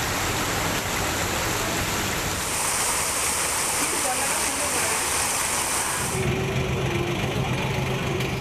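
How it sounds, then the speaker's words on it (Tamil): Heavy rain in Tamil Nadu, with floodwater rushing along the roads, makes a dense, continuous hiss and wash of water. The sound shifts toward a lower rush near the end. "சாலைகளில் வெள்ளம் கரைபுரண்டு ஓடியது"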